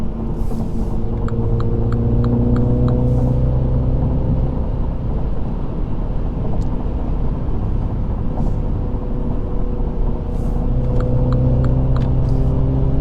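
A 2020 MINI JCW Clubman engine drones steadily and loudly while cruising in fifth gear in sport automatic mode, a constant low rumble with road noise and brief faint ticks over the top.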